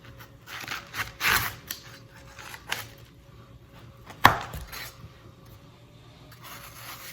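A knife cuts through fresh watermelon in a few separate strokes, each a short crunchy slicing sound with a sharp thud at the board, close and fairly quiet, with quiet pauses between cuts.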